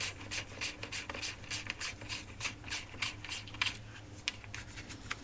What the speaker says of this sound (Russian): Далее откручиваем колпачок щеткодержателя.